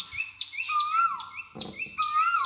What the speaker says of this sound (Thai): เอ้นกนี้ถ้าจะเป็นนกเกาเวานะเจ้าเนาะ